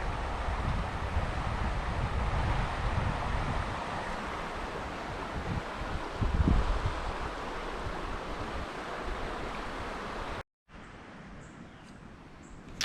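A swollen, rising creek rushes steadily outdoors, a loud, continuous broadband roar of flowing water with some wind buffeting, briefly cutting out near the end before resuming slightly quieter.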